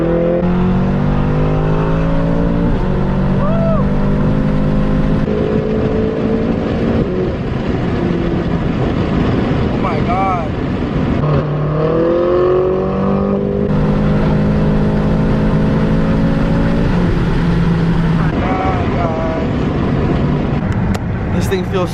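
A BMW F10 M5 running on E85 fuel pulls hard under acceleration, its engine note climbing through the revs in several rising sweeps, loud and close inside the cabin with a faint voice underneath.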